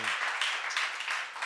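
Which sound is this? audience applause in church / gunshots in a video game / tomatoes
audience applause in church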